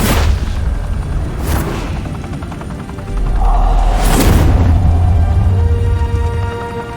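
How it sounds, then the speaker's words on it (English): Gunfire and explosions in a Batman Telltale Series battle: two loud booming blasts ring out, one early and one about two-thirds through, over a steady rumbling din of combat noise. "Open fire!"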